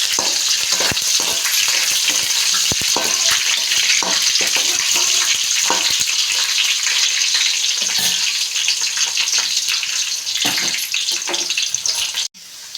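Onions and curry leaves frying steadily in a pan for chicken curry, a loud continuous sizzle with scattered crackles and occasional stirring scrapes, no talk, ending with a brief drop near the close.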